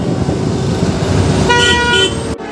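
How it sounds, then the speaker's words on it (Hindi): Road traffic roars outside a motorcycle showroom, and then a loud car horn blares in a sustained honk that cuts off abruptly. "ये हॉर्न बहुत ज्यादा बजा रहे हैं"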